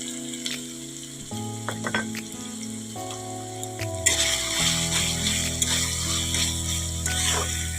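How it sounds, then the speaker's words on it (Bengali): Masala sizzling in a pan for a rohu fish and potato curry, a steady hiss, close by, with a background hum and faint clinks of stirring, growing louder once water goes in. "একটু জল দিয়ে দিলাম বন্ধুরা ভালো করে কষিয়ে নেবো"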